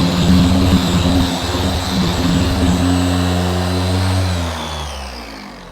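Car polisher buffing paint, a steady loud motor drone with strong tonal harmonics that shifts pitch partway through as the machine slows, then eases off toward the end.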